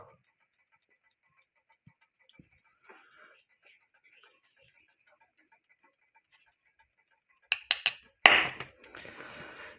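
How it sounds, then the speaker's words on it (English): A few sharp metallic hammer taps ring out close by on a carriage clock's spring back plate, followed by a brief clatter and rustle of metal parts, after a mostly quiet stretch. "Just tap that and the back plate of the spring comes off."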